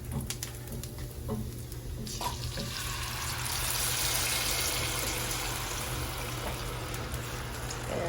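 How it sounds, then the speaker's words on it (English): Red chilaquiles sauce pours into a hot pan and the sizzle swells into a loud, steady hiss that continues after the pouring stops. "Okay, we're now gonna pour the sauce over it."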